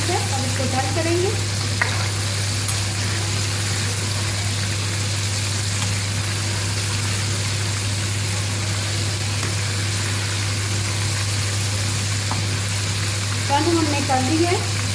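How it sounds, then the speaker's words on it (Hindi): Chicken pieces fry in oil over a high flame for crispy fried chicken, a continuous loud sizzle and crackle with a steady low hum beneath and faint occasional voice-like sounds. "अब इसको 2 मिनट के लिए ऐसे फ्राई करेंगे"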